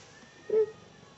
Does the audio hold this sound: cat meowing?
yes